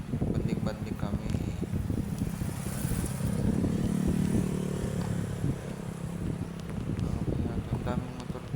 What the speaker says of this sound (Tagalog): Ang daming motor dito, no?